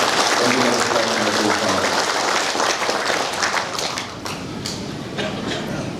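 An audience claps at an anniversary gathering held in a hotel, sustained dense applause that thins slightly toward the end, with some talk mixed in.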